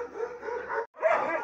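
Alabai puppy, a Central Asian shepherd, with injured paws in a sawdust-bedded pen, giving close yips and whimpering barks in two bursts split by a short pause.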